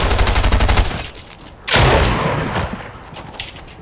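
Gunfire in the video game Fortnite: a loud rapid burst of automatic shots, a brief pause, then another sharp heavy blast followed by scattered fainter shots.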